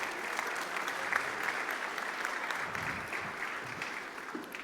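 Dense, steady audience applause fills the room at the opening session of a national beet seminar as a representative is welcomed to the stage, sustained and fairly even throughout with no clear voices.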